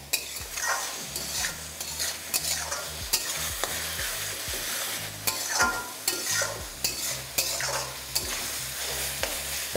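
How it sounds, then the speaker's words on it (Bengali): Ridge gourd sautés with tomato in a pan for a fish-head chhyachra, giving a steady loud sizzle with repeated sharp scrapes and knocks of a stirring spoon against the pan, close and without speech. "এবার 2 থেকে 3 মিনিট টমেটোর সাথে এটাকে ভালো করে একটু কষিয়ে নিন"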